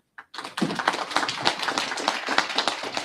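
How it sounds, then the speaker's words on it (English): Sudden burst of clapping from a small audience at a convention, a close and lively patter of individual hand claps that starts after a moment of silence and continues steadily. "we'll just do a round of applause"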